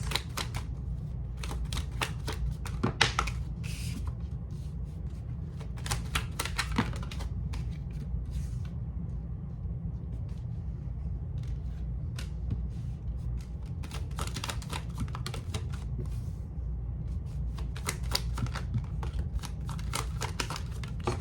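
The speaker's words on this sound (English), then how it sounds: "Just pulling some more cards for you." Tarot cards being shuffled and pulled, with soft riffling and snapping card flicks in scattered clusters over a steady low background hum, close and fairly quiet, no talking.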